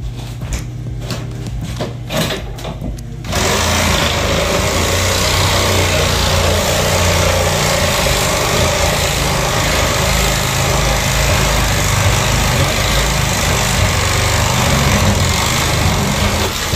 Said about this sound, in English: he decided to use his sawzall and cut it out now that he already got it started